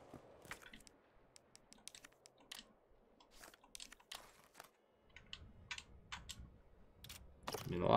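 Faint, sparse clicks sound during lockpicking in the Resident Evil 3 Remake video game, quick irregular ticks scattered over a quiet background, growing a little busier toward the end.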